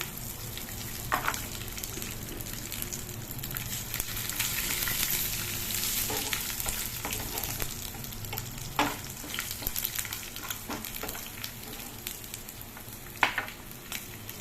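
Dried red chillies and garlic fry in hot oil in a pan for coconut chutney, giving a steady close sizzle with occasional stirring clicks and scrapes throughout.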